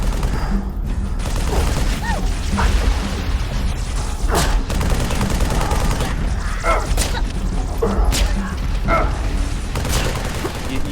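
Silenced pistol and suppressed SMG fire in the Halo shooter game: repeated muffled shots and short bursts with mechanical clicks, over a dense, constant layer of in-game noise.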